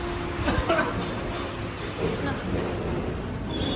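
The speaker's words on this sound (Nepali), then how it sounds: "यहाँ आयो ट्रेन पनि" Paris metro train pulling into an underground station, a steady low rumble and rolling clatter filling the space, with background voices from people on the platform.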